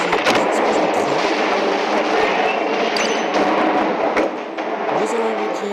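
Train explosions in Godzilla Battle Line boom one after another over a continuous heavy rumble, loud and chaotic with no pause.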